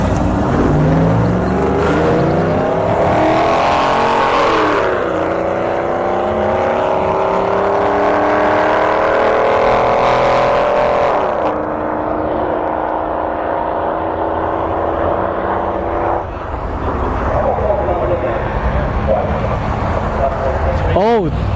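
Drag racing at Bradenton Motorsports Park as a Chevrolet Silverado and a Mercedes C63S launch, engines roaring through rising gear pulls and shifts, then fading as a further engine note continues, with a voice talking over the noise.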